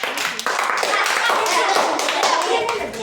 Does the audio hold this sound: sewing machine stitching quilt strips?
no